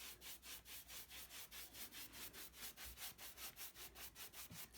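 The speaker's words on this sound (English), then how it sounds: "So I'm brushing." A brush spreads wax over a surface finished in chalk-type paint, making steady, rhythmic rubbing strokes, about four or five per second, soft and close with no talking.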